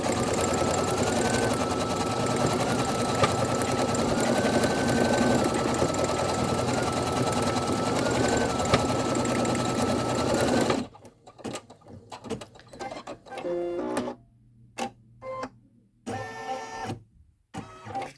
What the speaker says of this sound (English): I'm going to run my next stitch, which is going to be the tack down to secure my sweatshirt to my stabilizer